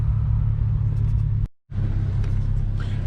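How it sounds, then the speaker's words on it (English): An Infiniti G37s with a Beluga exhaust idles while warming up, giving a steady, deep, close-up rumble that cuts out for a split second midway before resuming unchanged. "let me go ahead and let the car warm up a bit so I can give you guys some revs"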